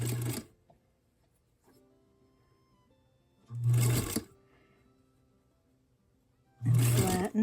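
A sewing machine stitches a quarter-inch quilting seam in short bursts, with three brief runs of rapid whirring separated by pauses, close and fairly quiet.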